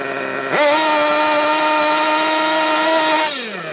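A nitro RC car engine running rich screams at a high, steady, buzzing whine, jumping up in pitch and holding full throttle before dropping back, loud and close with no voices.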